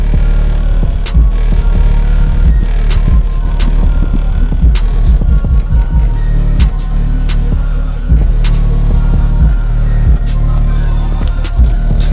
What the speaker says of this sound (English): And my license plate's rattling.